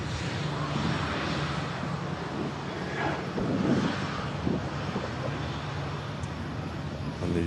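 A Corendon airliner arriving at Manchester Airport, its engines making a steady broadband roar that swells a little midway and stays loud throughout, with some wind buffeting on the microphone.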